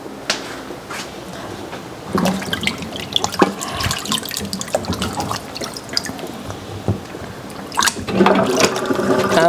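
Tap water runs and splashes steadily as plum tomatoes are rinsed in a sink, with clattering handling noises and brief surges of flow, close and fairly loud.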